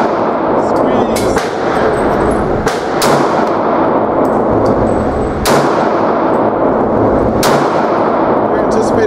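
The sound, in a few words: Glock 22 pistol gunfire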